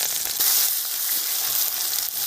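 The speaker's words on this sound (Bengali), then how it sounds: "দিয়ে দিচ্ছি পেঁয়াজ" Sliced onion dropped into hot oil with nigella seeds and dried red chillies, giving a steady, close, bright sizzle that holds without a break, with no voices.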